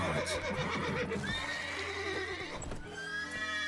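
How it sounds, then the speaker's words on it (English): Horses neighing and whinnying over clip-clopping hooves in a stealth video game, with several whinnies overlapping in a dense, continuous mix at fairly close range and no talk. "Gotta calm all the horses before they wake the guards."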